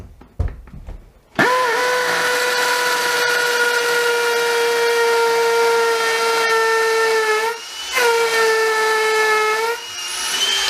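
A cordless hammer drill running at top speed in hammer mode with a 6 mm bit gives a loud, steady, high-pitched motor whine for about nine seconds, dipping briefly once before resuming. No one talks.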